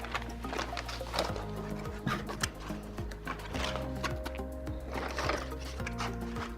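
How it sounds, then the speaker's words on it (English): ZYYX Pro 3D printer feeder wheel drawing filament in with a steady mechanical whir and faint rhythmic ticking, close and quiet, with no talking. "So now it's been taken by the feeder wheel, and it's going to go through the Swift tool and then start extruding."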